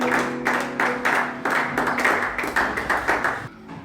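Congregation clapping in a church service, a rhythmic run of loud, evenly spaced claps about twice per second, close and sustained, over a steady sustained musical tone underneath.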